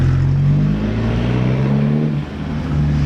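Volkswagen TDI turbo diesel car engine revs loudly and steadily, with a continuous engine drone and a brief dip near the end, and no voices.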